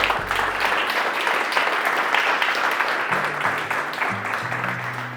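An audience at a university speaking event applauds in a steady, dense round of clapping at moderate distance, with some murmuring voices underneath and a few brief tonal sounds in the background.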